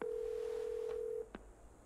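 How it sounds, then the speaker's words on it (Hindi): A phone dials a call in the superhero game Marvel's Avengers: a loud steady dial tone holds for just over a second, then cuts off, followed by a single short keypad tone. "कमाला घर पे फोन करी शायद झूठ बोलने के लिए"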